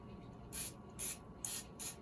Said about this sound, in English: so I just spray the top of the dough